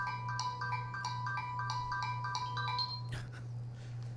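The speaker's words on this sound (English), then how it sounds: "that's my phone" A mobile phone plays a melodic ringtone, a repeating bright pattern of tones over a steady low hum. It rings for about three seconds, then breaks off into a short rustle.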